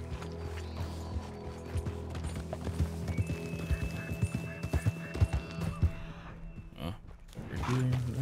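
Horse hooves clop in a steady run through a Red Dead Redemption 2 game scene, with a loud music and ambience bed underneath and a thin high tone sustained across the middle.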